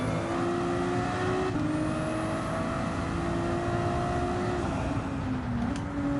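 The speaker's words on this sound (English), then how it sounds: "the sound is nice of the turbo" A turbocharged car engine in Gran Turismo 7 drones steadily at high revs, pitch rising slowly then dipping as the throttle eases, loud and close with no voices.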